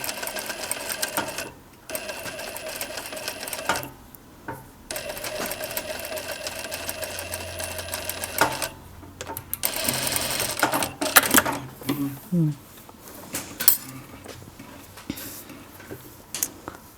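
A sewing machine runs in bursts of steady mechanical whirring while stitching a hoodie seam, starting and stopping several times close by, with small clicks and handling noises between the runs.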